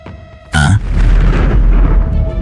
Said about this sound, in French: On dirait que j'ai appuyé sur le mauvais bouton et ce robot chat a tout simplement explosé